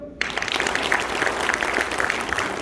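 An audience at a Korean presidential campaign political rally breaks into applause after a brief silence, a dense, sustained burst of clapping from a large crowd that continues to the end.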